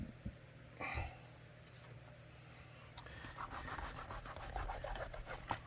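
Microfiber cloth wiping Rem oil over handgun parts during a CZ P09 build, a soft close rubbing and scrubbing that starts faint and grows steadier and busier in the second half, with light handling knocks.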